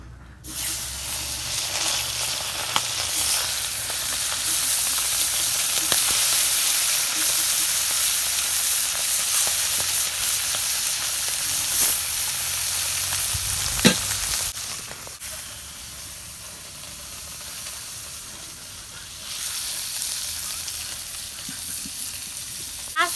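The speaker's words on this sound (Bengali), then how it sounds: "তেল গরম হচ্ছে আর মাছগুলো দিয়ে দেবো" Small puti fish fry in hot mustard oil with turmeric and salt, making a loud, steady sizzle that hisses on for over twenty seconds and eases slightly toward the end.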